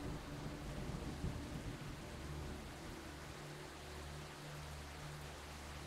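Rain hisses in the video game Mutant Meltdown, a steady broadband wash of falling water with a low rumbling undertone, constant and moderately distant throughout.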